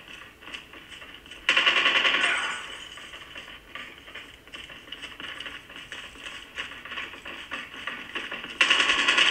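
Gunfire in a mobile shooter video game such as CODM or PUBGM played on a vivo iQoo Pro phone, rapid bursts of automatic shots rattling steadily with louder stretches near the start and end.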